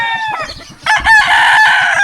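Roosters crow loudly and close while chickens squabble and cluck in a sustained, harsh burst of fowl noise during a scuffle.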